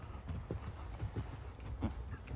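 A horse's hooves clip-clop steadily in an arena during a dressage test, producing soft, evenly spaced footfalls that sound fairly distant and quiet against a faint background hiss.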